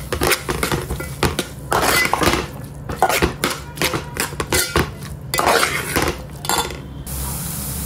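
Onion and tomato are stirred together in a cooking pan for pav bhaji, giving repeated metallic scrapes and clinks of a utensil against the pan in an uneven rhythm, loud and close, with a soft sizzle beneath.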